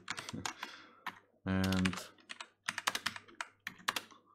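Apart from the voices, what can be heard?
typing code on a computer keyboard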